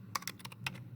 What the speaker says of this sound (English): So I'm going to type 21 March